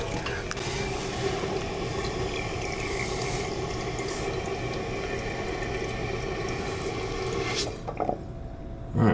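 Water trickles and drips steadily inside a running toilet tank, a close, continuous wet hiss that stops abruptly near the end, followed by a brief clunk.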